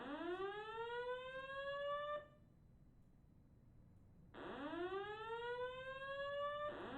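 A building fire alarm sounds during an evacuation, a loud rising whoop with rich harmonics that repeats twice with a pause between.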